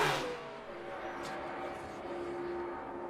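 A NASCAR Sprint Cup car at Texas pulls away at the start of a qualifying run, its engine note climbing then holding steady as it draws away, heard under a commentator's voice.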